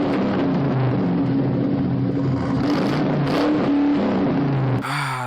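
Crown Victoria V8 with a muffler delete revving loudly and steadily, the raw exhaust note rising and falling through several throttle blips before a sharper rev at the end.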